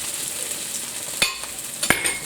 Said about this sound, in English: Okay, we're just stir frying this.